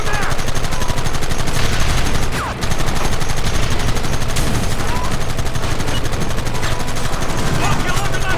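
Red Dead Redemption gunfire forms a dense, continuous barrage of loud rapid shots that barely lets up. Someone shouts over the gunfire.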